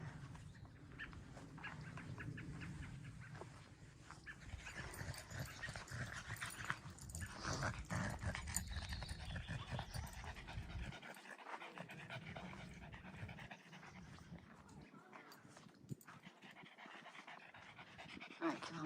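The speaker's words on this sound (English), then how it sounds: "Here comes a doggy, Pepper." A dog named Pepper pants rapidly and rhythmically close by on a hiking trail, the quick breaths continuing over several seconds while people talk and outdoor ambience fills the background.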